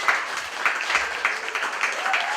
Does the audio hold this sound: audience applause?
yes